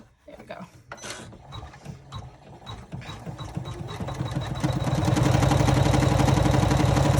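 An embroidery machine stitches a Cell Clutcher wallet held in the hoop, starting with scattered clicks and whirs before settling into a fast, steady, loud mechanical stitching rhythm.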